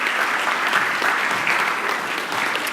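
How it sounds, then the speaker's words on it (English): A conference audience applauds at an opening-remarks session, a steady, dense wash of clapping from a large crowd holding at even volume throughout with no voices over it. "Give yourselves a round of applause"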